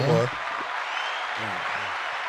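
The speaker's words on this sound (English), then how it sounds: "Good hand clap." Applause-like clapping washes through a podcast studio as a guest is welcomed, a soft continuous patter sitting under voices talking at the start and again midway.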